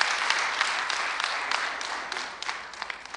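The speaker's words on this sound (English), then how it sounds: "Please, let's clap for Airtel." An audience at a teacher award ceremony applauds, a soft, steady patter of many hands heard from some distance for a few seconds.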